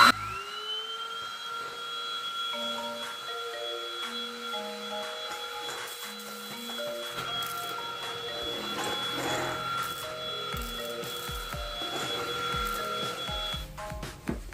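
A Tower VL30 Plus handheld vacuum cleaner switches on and runs steadily, its motor whine rising at the start and then holding a constant high-pitched hum, with a melodic electronic tone sequence playing alongside.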